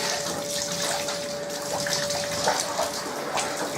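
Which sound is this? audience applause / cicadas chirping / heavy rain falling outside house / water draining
water draining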